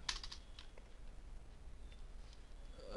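Light, sparse keystrokes on a computer keyboard, a few soft clicks near the start and then scattered taps over a low hum.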